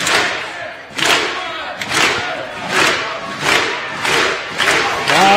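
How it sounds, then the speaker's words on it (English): Loud crowd at a men's college volleyball match against Pepperdine, roaring and chanting in surging waves roughly every second, with thumping stomps underneath, sustained throughout without a break. "We just kind of let the crowd take over, and you can hear how loud this is."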